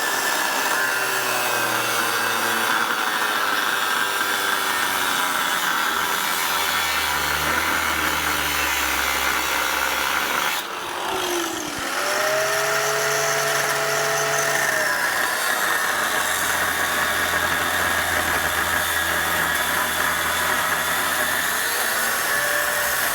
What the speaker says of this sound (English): when I'm going to be cutting it with the 7-inch discs